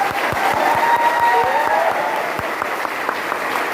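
An audience claps in a dense burst of applause, many hands close together with a faint crowd murmur, easing slightly toward the end.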